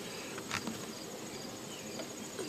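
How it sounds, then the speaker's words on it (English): Honey bees swarming at the entrance of a Warré hive, a continuous soft buzzing drone with a faint insect hum throughout and no voices. "They're really coming in and out. Lots of those bees are fanning the hive out"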